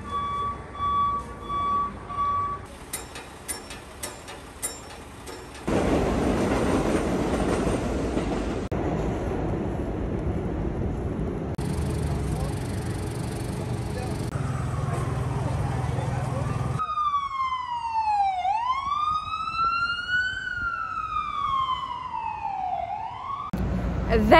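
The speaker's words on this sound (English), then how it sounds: "here's a little video collage of the sounds of New York." New York City street sounds in a rapid collage: rumbling train and subway car noise with clattering rails, steady traffic roar, and a loud wailing, sweeping emergency siren near the end, with some talking in between.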